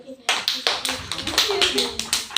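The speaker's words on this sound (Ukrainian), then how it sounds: "А аплодисменти" Classroom applause during an award ceremony for schoolchildren, with several bursts of quick, close hand clapping from a small group, rising and falling in uneven waves.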